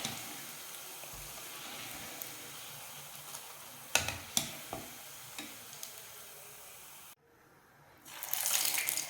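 Bottle gourd kofta balls frying in hot oil, a quiet steady sizzle with a few sharp clicks of a utensil, then a brief lull and a louder hiss near the end.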